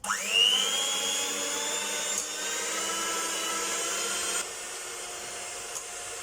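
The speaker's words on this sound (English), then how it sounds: "I'm going to put the machine on and give this a little mix" An electric mixer mixing shortbread dough whirs up to speed and runs with a steady motorized hum, its pitch shifting slightly as it churns, no talking.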